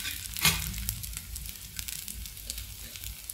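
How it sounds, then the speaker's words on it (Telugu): Oats dosa batter sizzling on a hot pan in ghee, a sharp hiss at the start settling into a soft steady crackle, close and fairly quiet. "దాని దోశ వేస్తున్నాను చూసారా"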